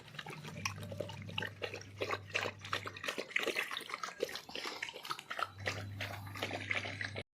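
Two dogs lap up milk with rapid wet slurping and splashing, busy and close, over a low steady hum.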